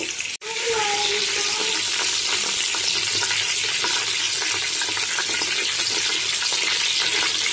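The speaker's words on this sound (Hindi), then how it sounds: "ये हम फ्राई कर रहे हैं" Food frying in a pan while smoky biryani is made, with onion and garlic going in: after a brief dull knock, a loud, dense, continuous sizzle and hiss fills the rest of the clip close up.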